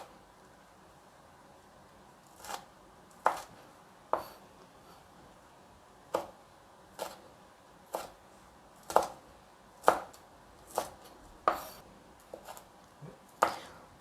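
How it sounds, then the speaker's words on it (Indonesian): A knife chops red chili peppers on a cutting board, about fifteen crisp single knocks at an uneven, unhurried pace, close and clear over a quiet room. "Untuk selanjutnya kita akan potong-potong cabai merahnya."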